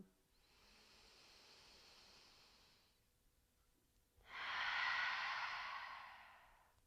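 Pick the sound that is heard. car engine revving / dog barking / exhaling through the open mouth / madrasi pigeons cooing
exhaling through the open mouth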